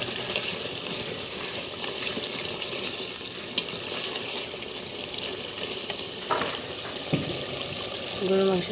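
Water for gravy goes into a pan of beef curry with a continuous close rush and bubbling hiss. A couple of brief knocks and a short tonal chirp come near the end.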